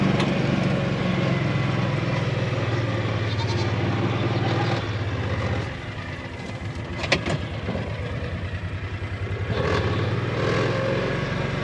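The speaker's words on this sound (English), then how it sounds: "let's go ahead and get these goats fed. They're already hollering." Goats on a farm bleat intermittently at feeding time over a steady low engine hum, the cries rising briefly in the middle and again toward the end.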